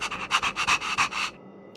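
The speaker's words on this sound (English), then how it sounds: "Oh, there's a dog." A dog in the game Honkai: Star Rail pants in quick, rhythmic breathy bursts, close and fairly loud, about a dozen puffs before stopping abruptly.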